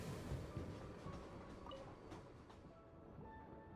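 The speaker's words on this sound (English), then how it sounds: "So there was a train hidden behind that wall?" A train in Genshin Impact rumbles as a low, steady rolling drone with faint clacking, quiet and continuous with no voices.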